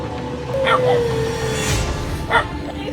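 A golden retriever being struck yelps and whimpers in short, sharp cries, a couple of distinct yips with a thin whine between, against background noise and a dull thump.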